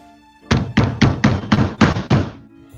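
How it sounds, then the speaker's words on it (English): Six heavy, evenly spaced bangs on a door, loud and close, forming a steady knocking burst with a short quiet gap before and after. "he is startled by banging on the door"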